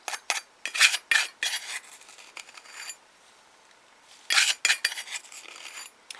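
Small tools clink and scrape against glass or plastic containers while acrylic glitter mixes are stirred, a run of sharp close taps and rattles in bursts with pauses between them.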